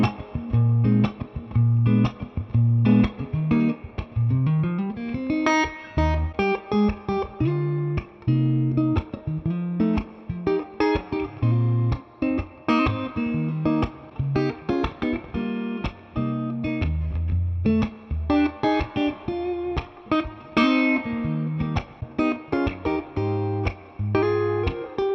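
A PRS Silver Sky electric guitar on its neck pickup plays through a clean 2-Rock Bloomfield Drive amp, with a steady run of plucked notes and chords, close and alone.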